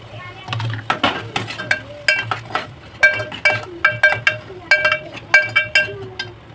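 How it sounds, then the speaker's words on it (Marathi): Thick puree for Maharashtrian chicken sukka being stirred and roasted in a pan, a spoon clinking and scraping against metal in a steady run of strikes over a soft background sizzle, close and fairly loud, with no talk. "प्युरीला चांगलं भाजून घेऊया"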